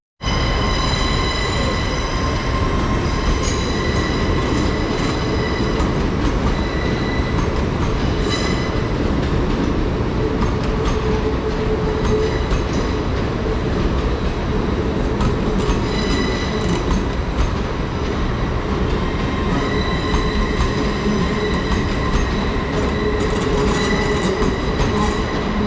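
LNER train 801218 on the Edinburgh to London King's Cross service passing close by: a loud, continuous rumble of wheels on rails with squealing and rhythmic clicking throughout, no voices.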